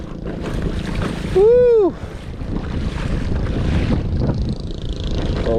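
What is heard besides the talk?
wind while pedaling a fishing boat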